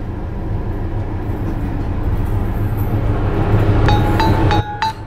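Siliwangi passenger train slowing to about 20 km/h as it brakes before entering the old Lampegan tunnel: a loud, steady rumble of wheels and carriage, with a clear high brake squeal rising near the end before a sudden drop.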